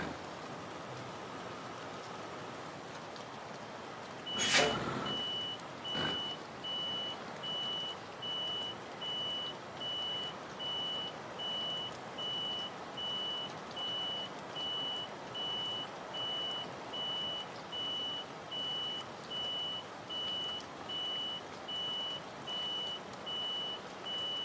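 Euro Truck Simulator 2 truck backing up, with a steady series of evenly spaced reversing beeps repeating for about twenty seconds over rain-like ambient hiss, following a brief sharp clatter.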